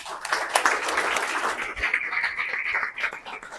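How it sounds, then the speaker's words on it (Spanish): An audience at a Spanish-language book presentation for "El mundo está hecho así" breaks into sustained applause that stays dense and even throughout before easing slightly at the end. "Un fuerte aplauso para él,"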